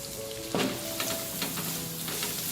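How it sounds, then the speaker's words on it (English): Chopped onion and garlic sautéing in a pan over a medium flame, a steady close sizzle with a few stirring scrapes and clatters. "We are now going to saute the onion and the garlic"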